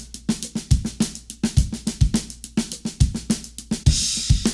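Drum kit groove with a steady kick and snare backbeat under busy hi-hat or ghost-note strokes, the left-hand notes uneven and lumpy in feel, played close and loud with no talking.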